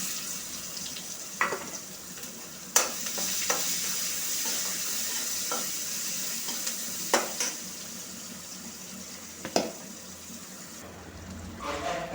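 Onion frying with ponnanganni greens and chana dal in a pan, a steady sizzle punctuated by several sharp spoon clacks and stirring scrapes, close and alone.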